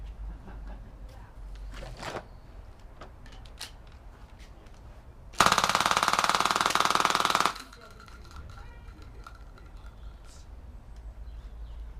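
An HPA-converted Mini BoomCo MA5 toy blaster running at about 60 psi fires a loud, rapid burst of shots lasting roughly two seconds, close by, with quieter mechanical handling noise before and after.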